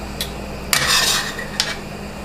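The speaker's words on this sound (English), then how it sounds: "so strain it into another bowl" Al dente fettuccine strained into another bowl, heard as a brief burst of clattering metal and cookware with a short splash-like rush and a second smaller clink, close and with no talking.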